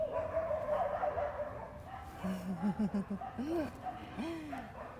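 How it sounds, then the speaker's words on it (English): Dogs bark and yip in the background, several short barks and whimpers scattered under faint talking. "The dogs in the background."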